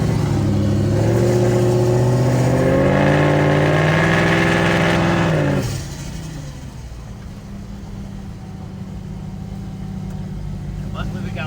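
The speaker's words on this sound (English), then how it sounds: "I'm just gonna let you listen to the sounds of LokJaw." A loud modified truck engine revs up with rising, throaty pitch for several seconds, then drops back to a deep rumbling idle.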